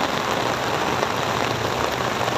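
Heavy rain pours down steadily during monsoon flooding in Malabon, a dense, continuous hiss of drops hitting surfaces close by with no break.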